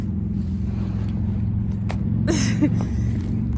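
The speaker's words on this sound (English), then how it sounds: "the city sounds in the background of the modern day cars zooming by" Steady low rumble of modern city car traffic passing by in the background, heard from a park, continuous and moderately loud with a brief swell of a passing vehicle near the middle.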